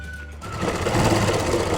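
A sewing machine stitches a stand collar onto a kurti, starting after a brief pause and then running in a fast, continuous mechanical whir, close and fairly quiet.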